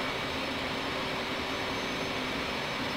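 Steady, loud turbine whine and roar from the engines of an F/A-18C Hornet in a flight simulation game during engine shutdown, a continuous broadband hiss with a faint constant tone running through it.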